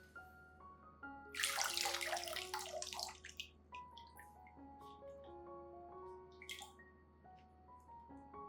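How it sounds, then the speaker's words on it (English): Water poured for orchids, a soft splashing pour that lasts about two seconds, then lighter trickles and a brief splash, set against quiet background music. "You can use this watering method for plants like orchids,"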